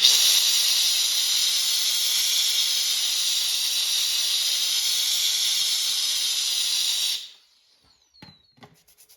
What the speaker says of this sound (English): So if I loosen that up, then blow it out with the steam.